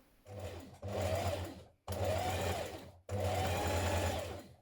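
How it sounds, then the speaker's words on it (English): A sewing machine stitches down the edge of a blouse button stand, running in three steady whirring bursts separated by brief stops. The sound is close and clear, and no one speaks. "we're going to stitch from the wrong side down the edge of this button stand here"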